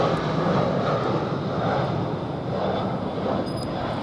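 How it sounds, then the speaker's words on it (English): An EasyJet Airbus passes over near Luton Airport Parkway station, a loud, steady broadband jet roar that stays constant throughout. "Now we've got another aircraft coming through here."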